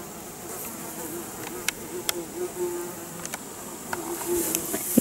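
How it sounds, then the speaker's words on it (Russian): A bee buzzes steadily and close among flowering potato plants in a village garden, a sustained droning hum with a few faint clicks and rustles around it. "И пчелка вон."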